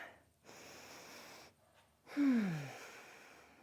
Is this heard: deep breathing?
yes